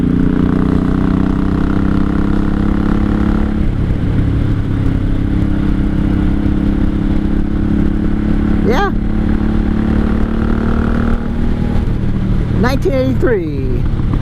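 A 1983 Honda Shadow VT750C cruiser with shaft drive, heard while riding, gives a loud, steady engine drone with shifting pitch as the throttle changes and rushing wind, close to the rider, and someone talks over it briefly.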